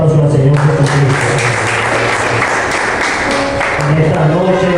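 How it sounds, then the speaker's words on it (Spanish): Congregation at a Spanish-language church service applauding together, a steady wash of clapping under an organ or keyboard chord that holds throughout. "Le doy un aplauso al Señor Jesucristo."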